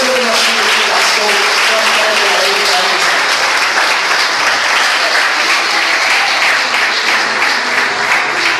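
Church congregation applauding loudly and steadily, a sustained dense roar of clapping with a voice faintly audible beneath it.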